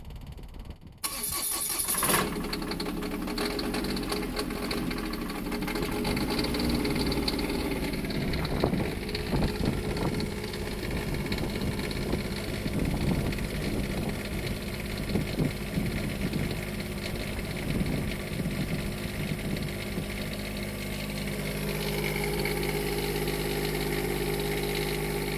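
An Onan 7500 Quiet Diesel generator on a Jayco diesel pusher motorhome runs steadily at idle while warming up, a continuous close engine drone that holds for the whole stretch after a brief start-up.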